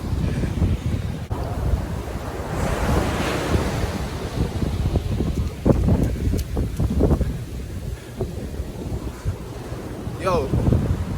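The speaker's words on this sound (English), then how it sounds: "Yo, these waves are beautiful." Ocean surf rolling in at Fort Lauderdale beach, a steady broadband wash of breaking waves with wind buffeting the microphone, swelling and easing continuously throughout with a brief voice near the end.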